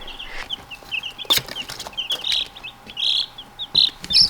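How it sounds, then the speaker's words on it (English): Sasso chicks, a meat chicken breed, chirp close by in a rapid chorus of high peeping calls, some louder and nearer, with faint background noise from a brooder under a heat lamp. "All 26 Sasso chicks are alive and thriving, and they are so cute."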